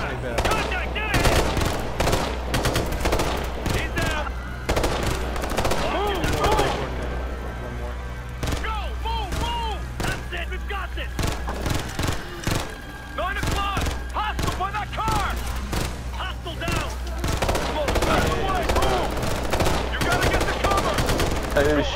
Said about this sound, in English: They were shooting in the distance.